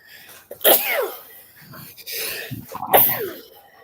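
Two loud, close sneezes about two seconds apart, each a sharp burst of breath, with a quieter breathy gap between them.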